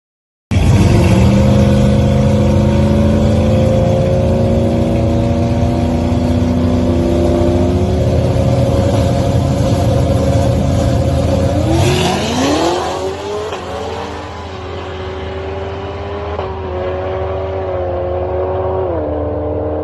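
A 2016 Cadillac CTS-V with a supercharged Gen V LT4 V8 and 8L90 automatic roars hard through a drag run, revs climbing steadily, then a sharp shift dip near the middle before the engine pulls loudly again to the end.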